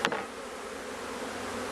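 Dense, steady buzzing of many package bees close by around a cage in a Langstroth hive, continuous and fairly loud throughout, with no talking.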